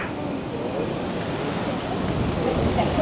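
Sea waves on a beach in Pattaya give a steady, broad rush of surf mixed with wind, continuous and fairly loud for the whole stretch, with no clear speech.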